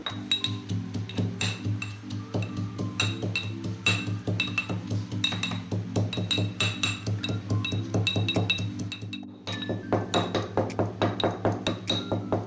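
Rapid, steady metallic pounding in a mortar as dried chillies and cumin are ground, a ringing clink on every strike, continuing rhythmically with a brief pause near the end.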